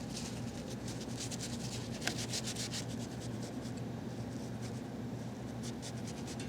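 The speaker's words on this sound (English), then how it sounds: "Remove the clamps and wipe the glue extremely well" A cloth wiping glue off a wooden drop-leaf end table, a steady soft rubbing and scuffing with rhythmic strokes, close and quiet, with no talk.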